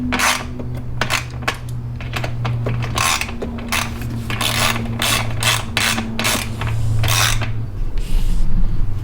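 Ratchet with a 10mm socket snugging a bolt on a Jeep JL turbo intake: rapid, close clicking pawl strokes in repeated bursts over a low steady hum.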